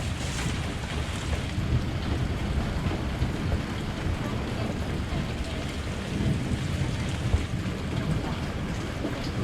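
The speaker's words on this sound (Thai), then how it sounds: "ฟังเสียงฝนพี่น้องบรรยากาศดีครับ" Steady heavy rain pours down with deep rumbling thunder rolling through, a dense continuous roar without pause.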